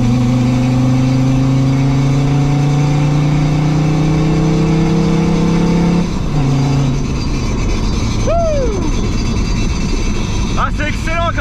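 A car with a Mercedes OM605 diesel engine drones loudly and steadily from close by as it pulls hard, its engine pitch rising with a whine from the turbo, and brief squeals break in near the end.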